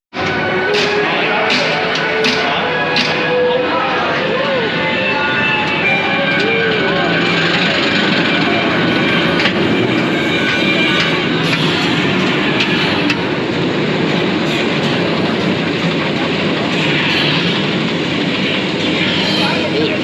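Mako roller coaster at SeaWorld Orlando roaring along its track, a loud continuous rumble with rattling that fills the whole stretch, with people talking over it.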